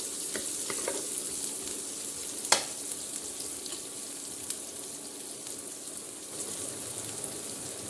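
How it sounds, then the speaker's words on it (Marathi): Onions for murmura poha fry to golden in hot oil with a steady, soft hiss and crackle, close and quiet, with one sharp tick of a utensil. "छान भाजायचं आहे सोनेरी रंगावर कांद्याला"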